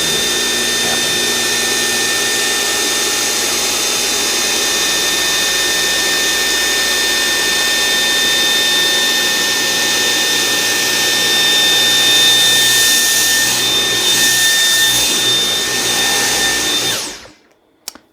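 A Dyson high-powered vacuum cleaner sucks up a dust pile indoors with a loud, steady whine, its motor roaring continuously before cutting off abruptly near the end.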